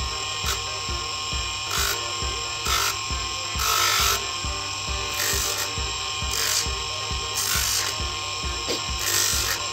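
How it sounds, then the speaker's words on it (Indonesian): A brass pendant is sanded with 220-grit sandpaper, probably on a rotary tool: a steady motor whine with a rapid rhythmic rasping, and the scraping swells in regular bursts about every second. No one speaks. "Selanjutnya kita haluskan dulu, teman-teman ya, amplas 220 dulu"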